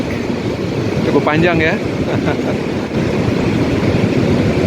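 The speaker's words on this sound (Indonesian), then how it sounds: "Penampakan kereta barang dari Tanjung Priok" A long freight train from Tanjung Priok rumbles steadily past with a low, continuous roar, while someone talks briefly over it early on.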